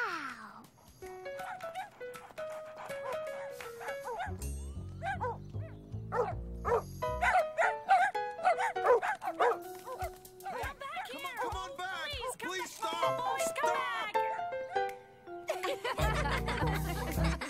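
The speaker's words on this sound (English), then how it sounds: "A very smart dog." A cartoon dog in a Caillou children's episode barks in short bursts amid background music, with voices and chuckling laughter around it.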